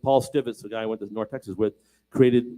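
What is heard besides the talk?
No distinct noise like a dog, phone or traffic.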